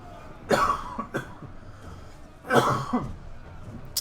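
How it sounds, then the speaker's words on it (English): Two separate coughs, close and fairly loud, the first around half a second in and the second at two and a half seconds, with short throat sounds following each. "Pardon me, I just coughed"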